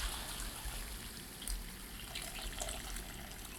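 Hot water pours into a pot of potatoes as a soft, steady trickle and gush, faint and continuous throughout with no talking.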